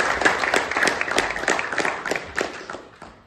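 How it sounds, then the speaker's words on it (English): Warm round of applause from a university audience of Indian graduate students, a dense burst of many hands clapping close by that holds steady and then tapers off at the end. "Can we have a round of applause for that?"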